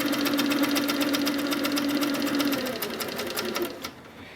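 A sewing machine stitching free-motion quilted feathers runs in a fast, steady buzzing rattle, close and loud, then slows and stops near the end.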